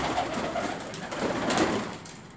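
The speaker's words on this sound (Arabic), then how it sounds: "دي بقى الحمام اللي عندي، دي نوعية الحمام اللي عندي" Domestic pigeons coo softly in a loft, low murmuring calls repeating over a faint background hum, fairly close and not very loud.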